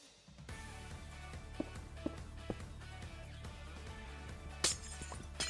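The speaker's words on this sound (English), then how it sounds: "It's annoying how long glass takes to break." A glass block breaks in the video game Minecraft: several sharp taps of repeated hitting end in a brighter, crackling shatter near the end, all over a steady droning game background.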